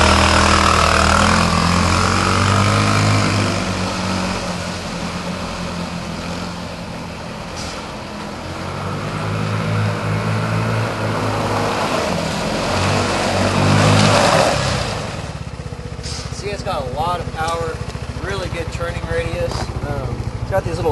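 An MXR 150cc UTV utility vehicle pulls away for a short spin, its small engine droning loudly and rising and falling close by, while a voice speaks near the end.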